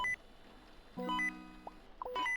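A phone rings in the indie horror game Last Report, with faint electronic beeping tones in short repeated bursts over a quiet, dark background.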